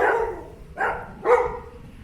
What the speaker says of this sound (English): I don't know what's giving these dogs a fuzz.